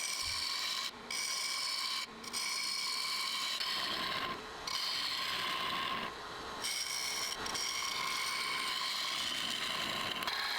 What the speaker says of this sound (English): Here I'm just using the parting tool to set the approximate depth that I want for the shoulder